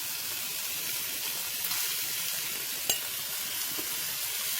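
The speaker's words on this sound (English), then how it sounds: "We're gonna cook this in the bacon fat." Beef frying in bacon fat for stew makes a steady, even sizzle with a couple of soft pops and a light clink, without any voices.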